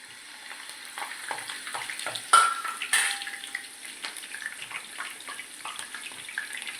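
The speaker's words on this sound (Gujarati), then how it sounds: "પહેલાં મરચાં તળી લઈશું" Chillies crackle and sizzle in hot oil, a busy steady frying hiss with a couple of louder pops and a brief metallic clink.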